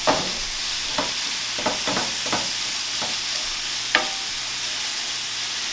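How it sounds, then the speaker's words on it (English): Ground meat browns in a hot pan with a constant close sizzle, broken by a handful of sharp scrapes and clicks as it is stirred. "we're going to see how our meat is browning"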